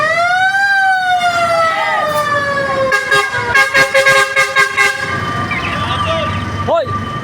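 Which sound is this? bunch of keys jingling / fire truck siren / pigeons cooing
fire truck siren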